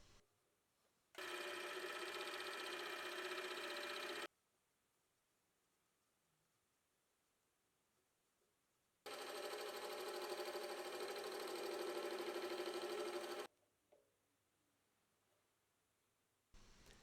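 A metal lathe skims the surface of a rusty chuck part in two long cutting passes, each a loud, dense steady whir starting and stopping abruptly, separated by near silence.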